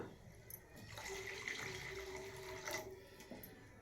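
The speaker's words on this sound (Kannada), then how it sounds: "ನೀರು ಹಾಕೊತೀನಿ ನಾನು" Water pours into a pot for garlic rasam, a steady splashing gush that swells for a couple of seconds and then stops, close and alone.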